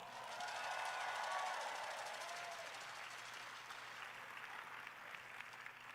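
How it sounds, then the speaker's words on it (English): An audience at a business keynote, the 2019 iBuumerang Vision event, claps in a sustained, fairly faint round of applause that swells briefly and then slowly tapers, with no talk over it. "Give yourselves a big round of applause."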